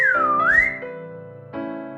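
A sharp, blaring whistle rises and bends in pitch for under a second, then a steady droning tone holds and swells louder toward the end; no talking.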